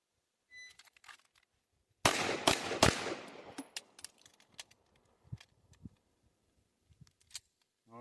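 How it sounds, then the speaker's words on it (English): A pistol fitted with an Icarus Precision Echelon grip fires loud, sharp shots in quick succession during a reload drill on outdoor targets, then fainter clicks and metallic handling noises follow with scattered gaps. "which is a shot on each target, a reload, and then a shot on each target"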